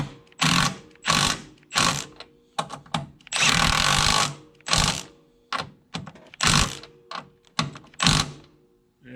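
Repeated bursts from an impact wrench tightening nuts on the front strut of a 2007 Honda Accord, roughly a dozen loud, close rattling hammering runs of varying length separated by short pauses, one noticeably longer burst in the middle.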